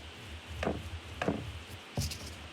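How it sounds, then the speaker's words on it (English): Dumpling dough for homemade chicken and dumplings is worked with a rolling pin on a board, giving three soft wooden knocks and rubbing strokes, close and fairly quiet, with no talking. "We're going to roll the dough out"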